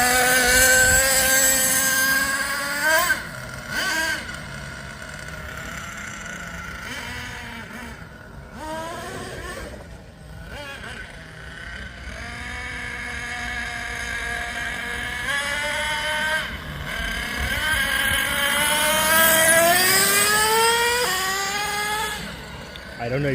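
A new RC monster truck drives and shifts into second gear; a high, whining electric motor note rises and falls repeatedly, sweeping upward as it accelerates, with wind buffeting the microphone throughout.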